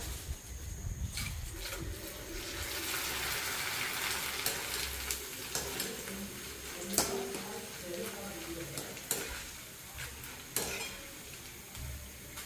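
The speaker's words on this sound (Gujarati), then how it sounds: "પૌવા તળી નાખશે" Soft sizzling of poha (flattened rice) frying in oil in a pan, with occasional clinks and scrapes of a utensil stirring, steady and fairly quiet throughout.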